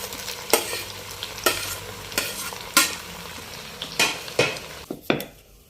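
A spoon scrapes and stirs potato capsicum curry in a pan, about seven distinct sharp strokes at an uneven pace over a soft background sizzle, with no talk.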